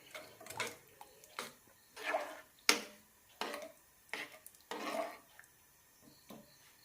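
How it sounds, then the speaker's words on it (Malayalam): Powdered flattened rice goes into boiling water and a pot is stirred: about eight soft, separate scraping and swishing strokes, quiet and fairly close, with short pauses between them. "വെള്ളം തിളയ്ക്കാൻ തുടങ്ങുമ്പോൾ അവിൽ പൊടിച്ചത് ഇടാം"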